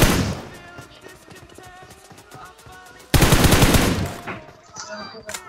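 Gunfire during a PUBG Mobile squad fight: rapid automatic bursts and single shots, loud and close, with a sharp louder volley partway through and trailing reports, amid faint game sounds.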